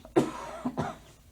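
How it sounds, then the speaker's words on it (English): Two close, sharp coughs from a person suffering from allergies, separated by a short breathy pause, with no talk around them. "my allergies are so bad that I can barely speak without coughing"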